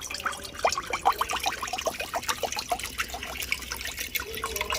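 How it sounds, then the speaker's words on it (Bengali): Water poured into rice flour in a bowl for pitha dough, a trickling, splashing stream with scattered drips, close and moderately loud, no talk. "জল দিয়ে দিচ্ছি।"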